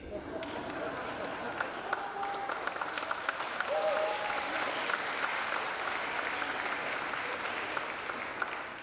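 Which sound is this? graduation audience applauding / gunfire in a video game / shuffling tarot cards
graduation audience applauding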